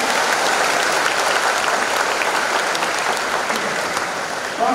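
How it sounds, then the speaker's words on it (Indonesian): An audience applauds at a Missio Canonica 2023 celebration, steady loud clapping from many hands filling the room for several seconds before easing slightly at the end. "Tepuk tangan sekali lagi untuk saya."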